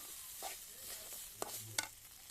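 Ingredients for khichuri are stirred and fried in a pan, faint scraping and sizzling with a few sharper clinks of the utensil against the pan near the end.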